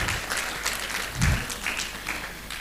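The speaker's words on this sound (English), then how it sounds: "a resounding round of applause for each and every one of them" Audience applause at a forum on women's participation in governance in Abuja, a fairly quiet, scattered clapping from a modest crowd, uneven in density with a brief low thump midway.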